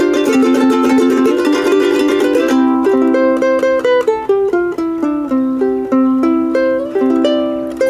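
A tenor ukulele with soft-tension clear nylon soprano strings and a high G, strummed in a full chord, then picked note by note, bright and clear with soft plucked attacks, close and alone.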